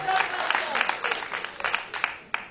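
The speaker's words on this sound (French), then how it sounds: "Applaudissez pour les femmes." A comedy show audience applauds with a dense, steady patter of clapping that swells in bursts over about two and a half seconds, close and fairly loud, with voices mixed into the crowd noise.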